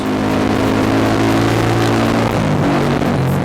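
A deep, bassy motorcycle engine drone through a custom exhaust holds steady close by, with a slight shift in pitch near the end as the throttle changes.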